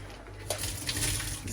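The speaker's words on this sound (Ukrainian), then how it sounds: "кладу отак в ситечко, нехай водичка стече" Water draining from boiled spinach in a small kitchen sieve, a faint trickling and splashing with a soft clatter, brief and close.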